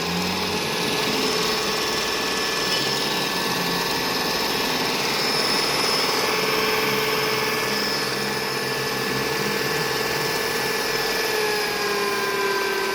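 An electric egg beater whirring steadily and loudly close by as it steps up through its speed settings, with the motor's whine holding continuously throughout.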